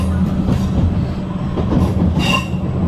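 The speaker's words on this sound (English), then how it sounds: "So we're on our second train now." Passenger train riding the rails on the approach into Crewe, a steady loud interior rumble with faint wheel clatter and a brief high squeal near the end, no talking.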